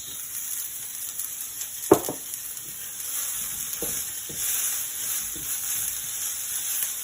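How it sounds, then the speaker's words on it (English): Vegetables stir-frying in hot oil with Szechuan pepper in a wok, a steady sizzle with one sharp clatter of a utensil and a few soft scraping stirs, close and fairly quiet, with no talking. "That Szechuan pepper is heating up."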